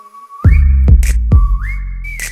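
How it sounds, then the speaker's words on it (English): Loud, clear whistling close up: two rising, sustained tones, each broken by sharp thumps, with a breathy burst between phrases. "Make him whistle like a missile."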